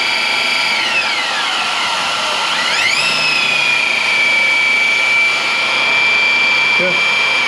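High-revving electric motor of a 40 mph machine spinning at over 10,000 RPM on a workbench, a steady whine that sweeps down, surges up again and then holds one even pitch, fairly mild and close.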